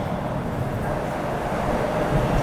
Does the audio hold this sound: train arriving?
yes